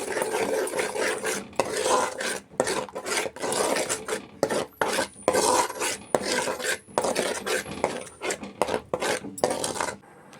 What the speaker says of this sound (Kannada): ಸೇರಿಸ್ಕೊಂಡೊಮ್ಮೆ ಮಿಕ್ಸ್ ಮಾಡ್ಕೊಳ್ತಾ ಇದ್ದೀನಿ.